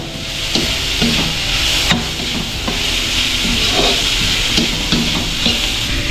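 Sliced green chili peppers sauté in a hot pan, a steady loud sizzle broken by repeated scraping and clinking strokes of a spoon stirring, with no voices.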